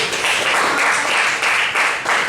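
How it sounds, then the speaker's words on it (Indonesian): A classroom of students claps together in a brief burst of applause, a dense, even patter of many hands that swells slightly and stays close and lively. "Kasih tepuk tangan dulu untuk 3 peringkat pertama tadi."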